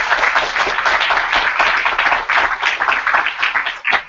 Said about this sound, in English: Everybody clap it up for Shiraz coming to the stage.